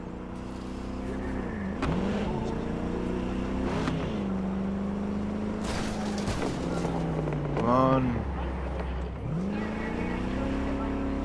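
A car engine in Cyberpunk 2077 hums steadily and revs up and down in repeated sweeping surges throughout, with a voice speaking briefly over it.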